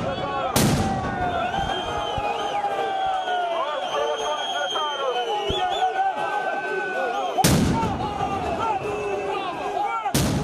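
Fireworks and Molotov cocktails are thrown at an opposition street protest outside a party headquarters. Two loud, sharp bangs stand out over a constant roar of crowd noise and whistles, with no speech on top.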